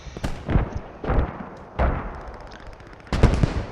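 MG34 machine gun fire in a multiplayer shooter, heard as four sharp, loud bursts spaced about a second apart, each with a ringing tail, with no talk over them.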